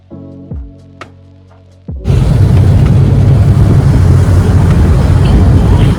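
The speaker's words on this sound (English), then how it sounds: "it was really sunny but windy day" A few quiet knocks, then heavy wind buffeting the microphone in a loud, continuous low rumble.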